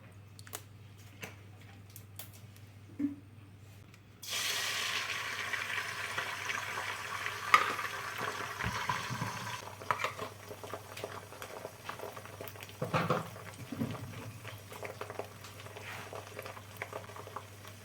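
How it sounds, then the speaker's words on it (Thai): A stuffed egg filled with mackerel fries in a pan, a steady crackling sizzle that starts abruptly after a quiet stretch and continues with popping spatters to the end. "ต่อไปเราก็จะมาทอดอีกใบหนึ่ง"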